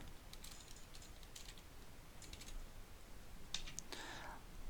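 Quiet typing on a computer keyboard while entering a spreadsheet cell label, with scattered soft key clicks in short bursts and a louder cluster of taps near the end.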